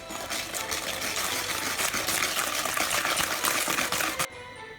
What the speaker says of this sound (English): Now second egg, and again I am going to whisk it nicely.